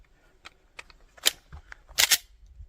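Two sharp reports from a Glock G19 pistol fitted with a Leo Precision Krusher slide, the second louder and doubled, with smaller clicks and handling noises scattered in between.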